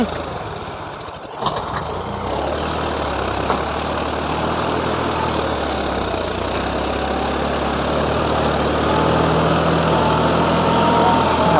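A 5055E tractor with a 12x12 gearbox runs while shifting gears on the move without the clutch. Its engine drones loud and steady close by, with a brief dip early on, and no talking.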